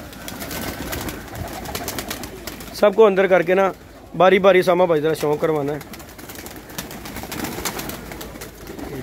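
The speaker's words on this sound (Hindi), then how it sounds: "कबूतर फिट एंड फाइन कबूतर है" Domestic pigeons kept for sale coo in a clear, close burst of repeated throaty calls lasting a few seconds, with a voice speaking over the surrounding noise.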